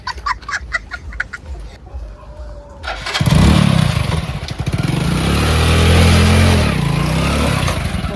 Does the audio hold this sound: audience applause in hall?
no